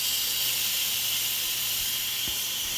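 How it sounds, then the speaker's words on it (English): Steam hisses steadily out of a pressure cooker during an instant release, a constant broad rushing hiss that stays loud and even throughout, with faint low knocks underneath. "you can hear the steam release"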